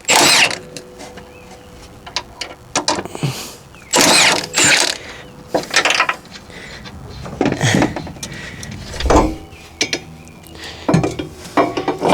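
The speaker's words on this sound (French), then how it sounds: "Moi j'ai que la grosse clé à choc" Large impact wrench working on a car engine bay, firing in several loud bursts of rattling hammering separated by pauses, with clanks of metal tools and parts in between.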